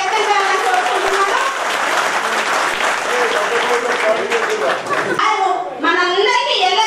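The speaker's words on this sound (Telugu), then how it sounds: "ఒక్కసారి చప్పట్లతో మీ అందరి ఆనందాన్ని వ్యక్తం చేయాలని కోరుకుంటున్నాను." Sustained applause and clapping from a crowd at a new ration card distribution event in Edapally, held by the Bodhan MLA. It is loud and steady, with a brief dip near the end, and some voices and chatter mix in.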